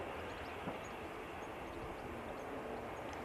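A steady, distant roar of jet engines starting up at Manchester Airport holds at an even level throughout, with a faint murmur of background noise and no voices.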